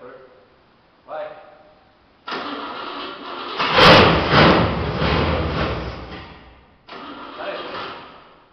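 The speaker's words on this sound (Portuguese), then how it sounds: "primeira partida e depois de ter aberto o motor" A Ford Maverick V8 car engine cranks and catches with a loud roar, revs for a few seconds, settles, then revs up again after a short pause.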